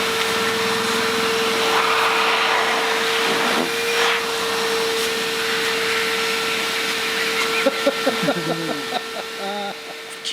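A vacuum suit for removing fiberglass particles during a boat repair runs with a loud, steady motor drone and a constant whine, with brief voices and some knocking near the end.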